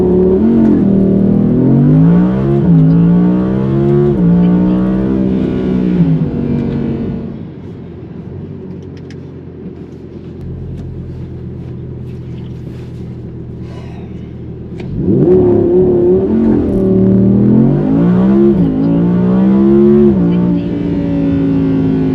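An Audi R8 V10 launches hard in performance mode with manual shifting, its loud engine roaring up through rising tones, easing off into a low rumble, then surging again in a second run.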